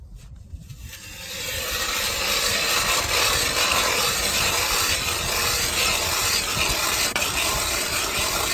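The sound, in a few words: drilling a hole in the ice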